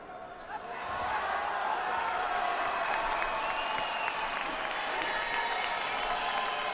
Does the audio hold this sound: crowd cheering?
yes